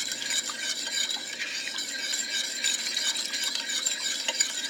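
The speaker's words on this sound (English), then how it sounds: "while I'm stirring it, make sure I really work that tapioca starch into there" Tapioca starch is worked into a black bean sauce for clams in a pan, heard as a soft, continuous scraping stir with light clinks, fairly faint and steady, with no voices.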